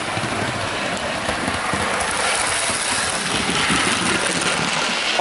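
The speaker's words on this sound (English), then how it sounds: "Oh, here comes the HST. About to overtake" A model HST train runs along a model railway, overtaking a class 47 locomotive in police livery, giving a steady, dense mechanical rumble and rattle that holds at an even level throughout with no talk.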